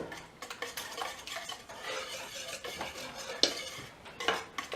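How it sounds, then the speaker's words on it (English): A whisk stirs a sugar and vanilla mixture in a bowl, producing a steady run of scraping, clinking strokes against the sides, fairly close and continuous with a few sharper knocks. "Let them whisk that up a little bit."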